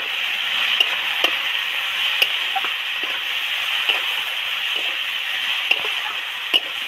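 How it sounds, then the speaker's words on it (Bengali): Small crabs frying in a pan with turmeric and chili powder, a steady close sizzle broken by a few light clicks of stirring, with no talk. "দিয়ে 5-7 মিনিট নেড়ে চেড়ে ভালো করে ভেজে নিলাম"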